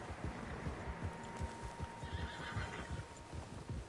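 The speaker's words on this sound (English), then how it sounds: "Horses, quite a few of them." Several horses neigh and whinny over a steady clip-clop of hooves in the open countryside of the video game Red Dead Redemption II, the calls close and overlapping against continuous hoof beats.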